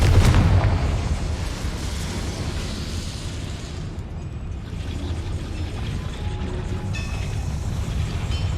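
Confringo fire spell blasting in Hogwarts Legacy, a loud booming burst at the start that decays into a rumbling, crackling tail, with fainter pops and thuds later.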